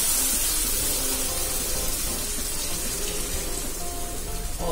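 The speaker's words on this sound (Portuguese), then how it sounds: "Vou botar um copo d'água aqui, que meu feijão tá bem sequinho de caldo." A glass of water poured into a pot of simmering carioca beans cooked with sausage and bacon, a soft steady splashing and bubbling wash that runs on without pause, with no talking.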